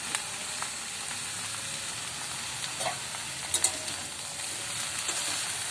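Salted mixed vegetables for a Bengali niramish panchan stirred in a pan, a soft, fairly quiet sizzle with a few light scrapes and clinks of the spoon, no voices.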